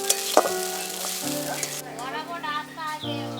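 Tomato sauce sizzles steadily in a hot pan, a continuous bright frying hiss with occasional stirring scrapes, close and fairly loud with no talking.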